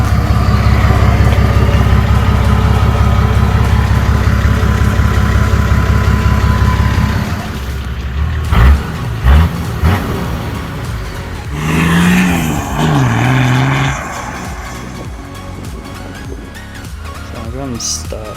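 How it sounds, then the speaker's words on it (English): A Patrol 4WD engine with a new exhaust rumbles loudly at a steady idle, then cuts out, leaving clunks and people talking nearby. "Exhaust is getting done tomorrow, so it'll be interesting to see what it sounds like."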